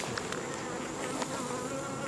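Honey bees buzz continuously during a beehive inspection, a dense close swarm drone with steady level and no talking over it.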